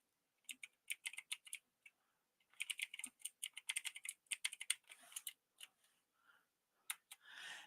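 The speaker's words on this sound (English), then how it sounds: "copy the link and I'm going to type it in here real quick." Fingers tap on a computer keyboard in short, quiet bursts of crisp keystrokes with pauses in between, close to the microphone in an otherwise silent room.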